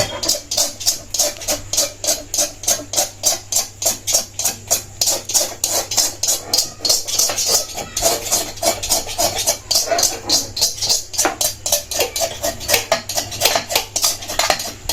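An iron kadhai is scrubbed clean of dirt and oil, producing steady rhythmic metallic scraping and clanking strokes, close and fairly loud, with no talking.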